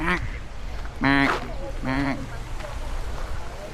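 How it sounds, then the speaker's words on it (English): Two loud, nasal mallard duck quacks sound nearby one after another, outdoors at Chena Hot Springs Resort in Alaska, with soft background noise and faint voices around them. "Oh, look at the beautiful mallards."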